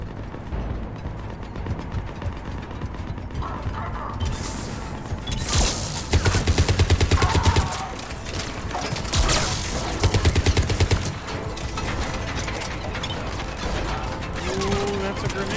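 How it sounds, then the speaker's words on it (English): A Mass Effect 3 Legendary Edition battle with rapid mechanical gunfire and a grenade blast, loud and sustained, with a voice shouting over the combat. "Ooh, that's a grenade."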